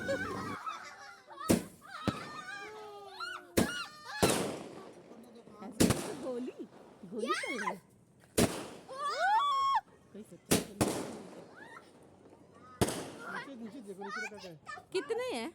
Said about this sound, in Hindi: तो पटाखे बाकी रह गए थे, स्काई शॉट वाला भी रह गया था।